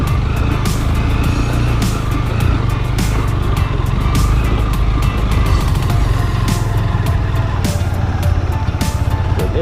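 A motorcycle runs continuously on an offroad trail near Barangja in Myagdi, its engine drone steady and close throughout, with no talking.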